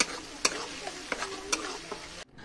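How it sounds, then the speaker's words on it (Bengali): Onion paste fries quietly in a wok for an Hilsa biryani, a soft sizzle punctuated by several sharp scraping strokes of a spatula stirring, with no talk, ending abruptly. "প্রথমে আমি কড়াইতে দিয়ে দিচ্ছি পেঁয়াজ বাটা।"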